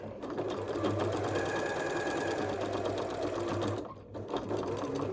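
A sewing machine stitches quilted fabric for a clothing embellishment, running close and loud in a fast, steady mechanical whir, then pausing briefly before starting up again.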